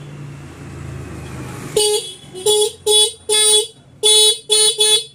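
A TVS motorcycle horn, just adjusted by its screw, blares in six short loud honks of uneven length, close to the microphone after a quiet, muffled lead-in.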